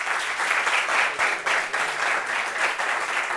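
A room of people gives a burst of dense, lively clapping that stays loud and steady throughout.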